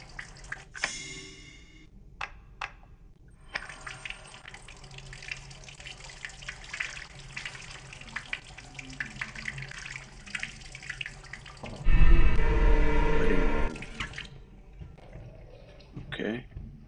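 Water runs from a tap as a ring is washed at a sink in the Resident Evil Village game, a soft steady stream with a louder, fuller burst of flow near the end amid a few clicks.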